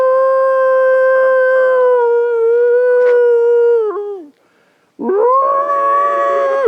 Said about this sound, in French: Puis ce fut un hurlement dans la montagne.